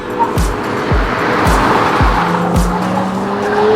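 A hard-driven 2021/2022 Audi SQ5 luxury SUV squeals its tires loudly. The squeals come as repeated sweeping pulses over the engine's roar, close and without talk.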